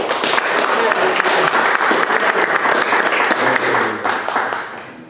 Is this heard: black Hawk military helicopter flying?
no